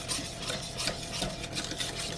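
Brownie batter with eggs and buttermilk being stirred very fast in a bowl, a steady rapid scraping and swishing of a spoon close up, with no voices.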